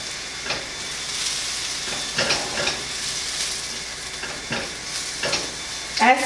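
Greens cut from a bush, stems removed, stir-fried in a pan for a vegan quiche: a steady sizzling hiss with intermittent scraping stirs, close and fairly loud, with a sharper clatter near the end.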